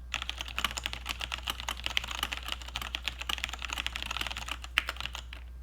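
Rapid, uneven keystrokes clatter on a computer keyboard close by, quiet and continuous, with a few sharper key hits standing out.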